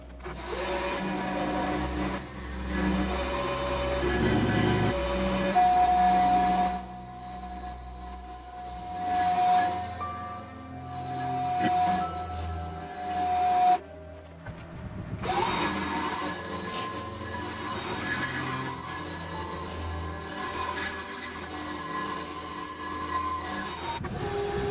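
A Vespa clutch plate is machined, with a loud, continuous metallic cutting drone and a sustained high whine, squealing tones, a brief pause partway, and then grinding that resumes and continues to the end.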